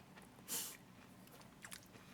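A Pink Lady apple is bitten with a single sharp crunch close to the mic, followed by quieter chewing sounds, all faint and with nobody speaking.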